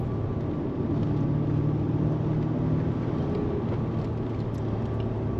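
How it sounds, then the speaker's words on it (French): A BMW M5 sports car engine on a road drive, heard from inside as a loud steady low rumble and drone that holds constant throughout, with no talking. "le son moteur est bien plus violent que ce que j'avais imaginé jusqu'à présent."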